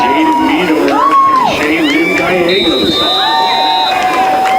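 A hometown crowd cheers and shouts at a high school football game, loud overlapping voices, whoops and whistles near and continuous.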